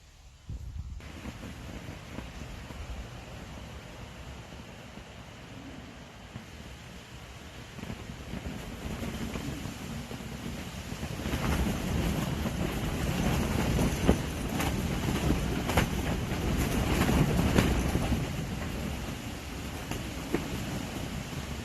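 Strong, steady wind roars and buffets against a Gazelle T4 hub tent, building into louder gusts partway through, with rustling and flapping noise under a constant rushing hiss.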